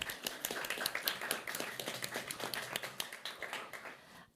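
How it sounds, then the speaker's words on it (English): Seminar audience applause: a steady patter of many hands clapping at close range for a few seconds, then thinning out at the end. No voices are heard. "Let's give her a round of applause."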